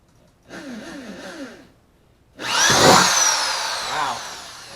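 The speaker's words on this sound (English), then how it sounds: "I'd say that's a sharp drill bit." A power drill whirs briefly, pauses, then bites into a plastic Pelican Catch 130 HD kayak with a louder, harsher grinding spin for a couple of seconds.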